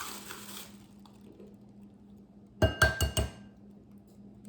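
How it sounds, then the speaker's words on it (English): An egg cracked directly into a bowl while mixing a pecan pie filling: a quiet kitchen hum, then a quick cluster of three or four sharp, close taps and cracks, followed by a soft drip. "That's 1 egg, and I just crack them directly in there."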